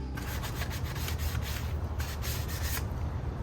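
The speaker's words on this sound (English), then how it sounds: "This wood is so easy to just sand out." Steady, continuous abrasive rubbing of sandpaper on cedar planks, close up, with repeated back-and-forth strokes and no talking.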